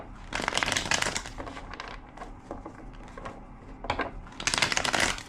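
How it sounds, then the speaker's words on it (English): Cards riffle and flutter in several quick bursts, crisp papery rattling up close, with softer shuffling handling between the louder riffles. "2 more shuffles."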